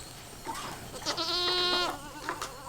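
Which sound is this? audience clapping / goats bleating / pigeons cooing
goats bleating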